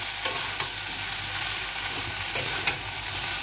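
Potatoes and lentil dumplings sauté in a pan for a raw papaya curry, giving a steady sizzle with a few brief scraping knocks as they are stirred.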